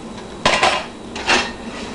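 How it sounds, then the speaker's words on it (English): Metal pots are handled during cleaning up after salsa making, producing two distinct clanking knocks about a second apart, close and fairly loud, with no voices. "So, I'm going to clean my pots"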